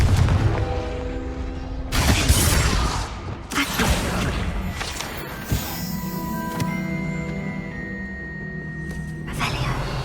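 Blasting spell explosions in the Hogwarts Legacy-style wizarding game, with several sharp booming bursts and crashing debris spread across a busy game soundscape.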